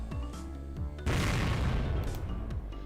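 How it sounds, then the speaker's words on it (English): A sudden loud explosion bursts at a window in the Higurashi video game, a broad booming blast that cuts through tonal background music and lingers as a rumbling roar. "An explosion of pure white line burst out of the window."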